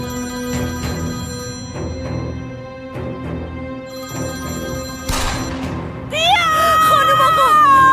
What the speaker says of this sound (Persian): بردارش پسرم، برش دار، تلفنو بردار پسرم.